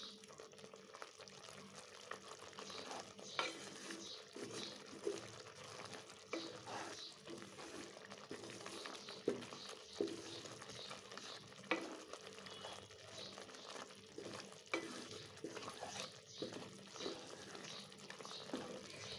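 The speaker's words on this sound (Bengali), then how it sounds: "চিনিটা দেওয়ার পরে আমি সব কিছু সুন্দর করে মাখিয়ে নিব।" A spoon stirs tomato and sugar together in a hot pan for a sweet and sour tomato dish, with soft sizzling and wet scraping strokes in an irregular rhythm, close and fairly quiet.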